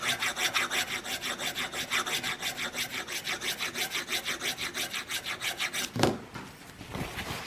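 Knife blade scraping caked old buffing compound off a buffing wheel, a steady rasping rhythm of about four strokes per second, close and continuous, ending with a sharper knock and brief scuffs.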